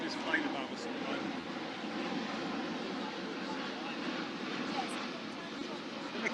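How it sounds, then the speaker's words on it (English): An airplane passes overhead at an outdoor event, a steady broad roar filling the whole stretch, with people talking underneath. "We've got this plane above us at the moment."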